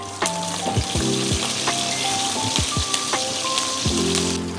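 Green chillies and cumin seeds sizzle in a little hot oil in a pan, a steady close crackling fry broken by several sharp pops as ingredients hit the oil.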